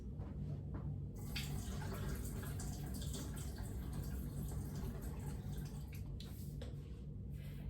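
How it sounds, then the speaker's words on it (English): Juice from a 29-ounce can of sweet potatoes drains into a kitchen sink in a soft, steady trickle, with a few brief splashy bursts near the end. "All right, so I'm gonna drain the juice."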